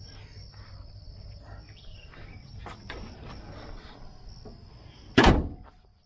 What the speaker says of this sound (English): Hood opens and closes great.